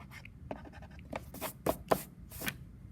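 Marker writing is wiped off a board in a quiet series of soft, brushy rubbing strokes, close up and fairly faint, with no talking.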